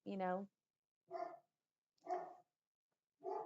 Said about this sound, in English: sorry, Loki's barking